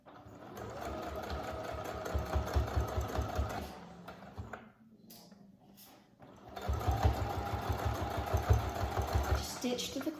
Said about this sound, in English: I'm going to stitch about 1/4 of an inch away from the edge.